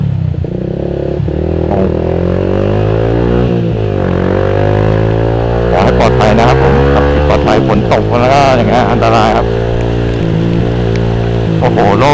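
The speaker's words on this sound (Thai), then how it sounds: "ฝนตกแรงได้ตีหน้านี่เจ็บเหมือนกันนะครับ" Heavy rain pelts a rider on an M-Slaz motorcycle in traffic, a dense hiss and clatter under the engine's shifting drone, with bursts of spray and scraping noise and a voice talking over it.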